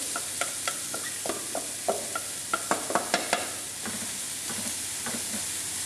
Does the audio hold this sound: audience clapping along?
no